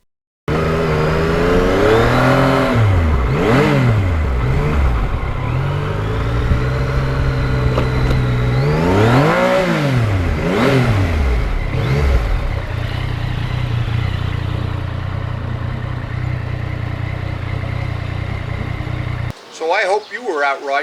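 A Yamaha MT-09 motorcycle with a carbon fiber seat cowl, its engine revving up and down loudly and repeatedly while ridden, with rising and falling pitch sweeps through gear changes, close and continuous until an abrupt cut near the end.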